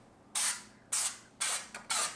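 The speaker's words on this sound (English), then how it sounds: "And now we're going to spray." Cooking spray hisses onto mini chicken pot pie pans in four short, close bursts with brief pauses between them, plus one quick extra puff near the end.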